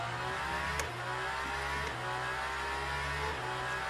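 A race car engine in the video game Le Mans Ultimate drones steadily with repeated shifts in pitch as it revs up and changes gear, loud and continuous with no talking.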